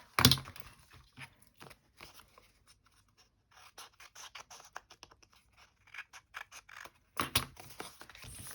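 Scissors trim scrap paper for a handmade junk journal, with close, crisp snips and papery rustles arriving in irregular clusters, louder bursts at the start and near the end.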